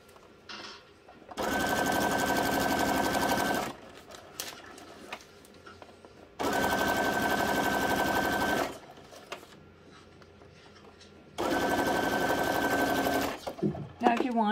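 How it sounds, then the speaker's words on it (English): Sewing machine stitching fabric for handmade journal cards made from punch negatives, running in three sustained bursts of steady whirring with quiet gaps between, where a voice talks softly. "the rest you're just gonna sew."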